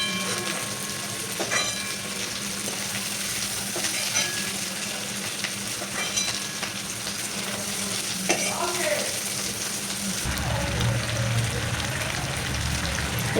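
Fried potatoes go back into a pan of hilsa fish for a thin Bengali curry, giving a continuous close sizzle with stirring scrapes and a deeper, louder bubbling toward the end.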